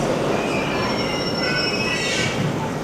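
A purple metro train runs through a tunnel with a loud, sustained rumble as its wheels squeal in long, high metallic whines that swell toward the end, heard close and without speech.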